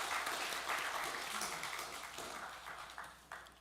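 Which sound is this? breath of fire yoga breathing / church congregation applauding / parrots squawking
church congregation applauding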